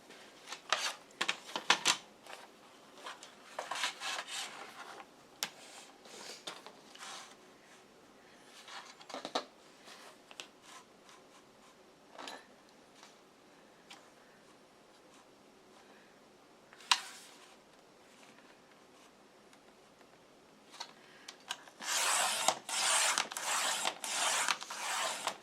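A paper trimmer cutting paper bag album cover boards, with scattered clicks, slides and sharp chops and a denser burst of cutting near the end.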